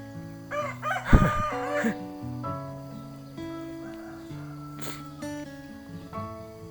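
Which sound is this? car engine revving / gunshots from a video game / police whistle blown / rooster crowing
rooster crowing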